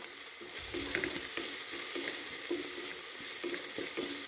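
Onion, ginger and spices sautéing in a tablespoon of oil, a steady close sizzle with repeated scraping stirs of a spoon in the pan, no voices.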